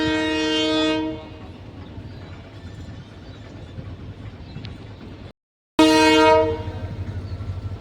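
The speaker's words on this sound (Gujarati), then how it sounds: "હવે ટ્રેન" A loud train horn blares, then a passing train rumbles steadily; after a brief gap the horn sounds again, followed by clattering wheels.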